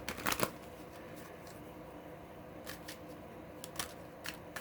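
Gilded Tarot cards are shuffled in a quick riffling burst at the start, followed by several softer, brief card flicks and slides in a quiet room.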